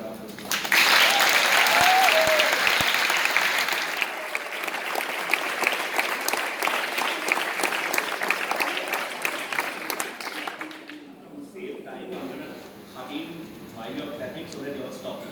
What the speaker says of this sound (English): So that you all stop clapping.